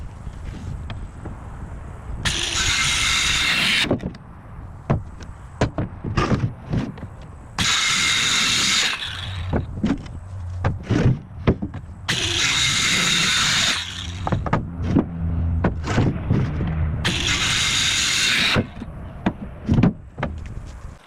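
Power saw cutting wooden boards to a matching length while building a pig hut, four loud sustained bursts of a couple of seconds each separated by gaps with knocks and handling of the wood, nearby and with no talk.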